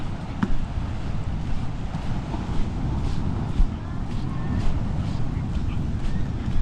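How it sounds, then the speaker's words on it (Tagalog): Big waves wash around a boat at sea, a steady loud rushing roar with heavy wind buffeting the microphone and a few brief sharper splashes. "Malaki ang alon, nak."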